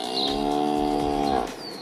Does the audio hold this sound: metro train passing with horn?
no